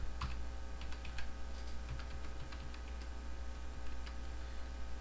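Quick, irregular keystrokes on a computer keyboard tap in light clusters against a quiet, steady background hum, with no talking.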